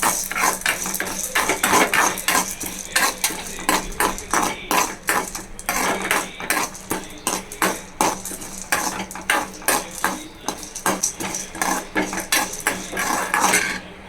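Urad dal and chana dal dry roasting in a pan, a metal spatula scraping and tapping in a quick, regular rhythm, loud and close, with the lentils rattling against the metal and no talking.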